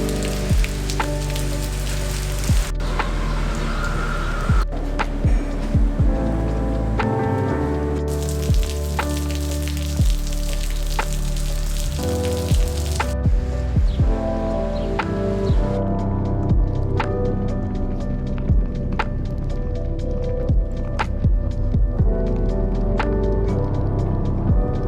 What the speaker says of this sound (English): it's like monsoon rain